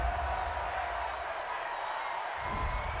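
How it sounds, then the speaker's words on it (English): Football stadium crowd at a Texans–Steelers game, grumbling and booing after a roughing-the-passer penalty, a steady loud roar of many voices swelling slightly toward the end. "this crowd does not like that call"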